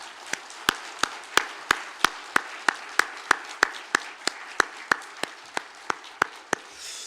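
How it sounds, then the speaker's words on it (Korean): A church congregation claps in steady unison after a choir's hymn, about three sharp, evenly spaced claps per second over a soft wash of room noise, with no talking. "우리 하나님께 영광의 박수를 올려드리겠습니다."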